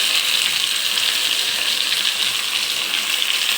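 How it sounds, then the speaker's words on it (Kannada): Onion, garlic and tomato frying in hot oil in a pan give a steady, dense sizzle that holds at an even level throughout, close and fairly loud, with no voices. "ಈರುಳ್ಳಿ ಚೆನ್ನಾಗಿ ಫ್ರೈ ಆಗಲಿ"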